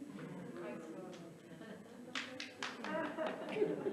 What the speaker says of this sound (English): Okay, so I've got one person clapping.